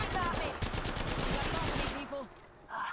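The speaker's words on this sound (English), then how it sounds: "he shot me through the bin I was hiding behind" Rapid gunfire bursts in the video game Heroes of the Outlands, a dense run of close shots for about two seconds, then a brief lull and another burst.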